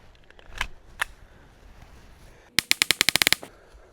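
Rapid .22 Long Rifle gunshots fired at a tree: two separate sharp cracks, a short pause, then a fast burst of about nine close, loud shots in quick succession.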